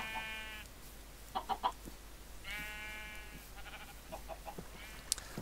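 Sheep in the Minecraft video game bleat in several short, wavering calls, with a few sharp clicks and small game noises in between, all fairly faint and clear, with no talk over them.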